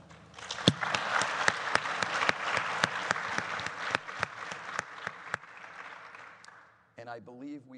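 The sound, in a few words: audience applause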